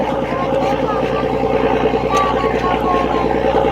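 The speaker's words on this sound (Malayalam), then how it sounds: "ബോട്ട് വരുന്നുണ്ട്" A motorboat approaching on a river gives a steady, droning engine hum that stays loud throughout, with a faint babble of voices in the background.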